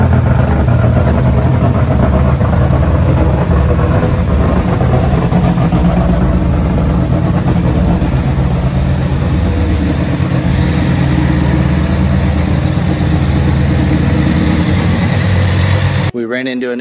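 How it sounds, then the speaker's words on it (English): A 1970 Dodge Charger engine idling on a dyno, a loud steady low rumble heard up close with people talking over it throughout, ending in an abrupt cut. "So you guys last saw this on the dyno and just idling"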